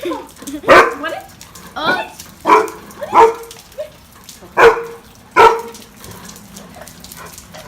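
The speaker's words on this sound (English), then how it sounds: "Sorry about my dogs, they have something to say about it." Several dogs bark in sharp, irregular bursts nearby, with a few yips between, and a brief spoken word among them.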